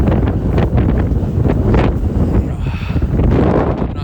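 Strong blizzard wind in North Carolina roars and buffets the microphone in loud, uneven gusts throughout, a constant rushing blast with no voices.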